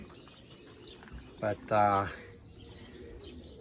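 Pigeons in a backyard loft give a short burst of close, harmonic calling, a brief note followed by a longer warbling coo, over steady low ambient noise; a single spoken word comes just before.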